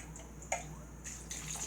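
Water is poured into a slow cooker in a few faint, splashy bursts, heard close and quiet with no talking.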